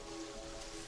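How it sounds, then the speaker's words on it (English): Steady soft rain hiss in the game Terraria, an even, continuous patter with a faint low hum beneath it, heard alone and fairly quiet. "Yeah, it's raining."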